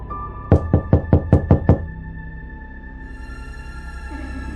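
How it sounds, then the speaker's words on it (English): A soft knock from upstairs, used as a sound effect in a scary story: seven quick, evenly spaced raps, fairly close, followed by a quiet room tone and no speech. "Then, a soft knock came from upstairs."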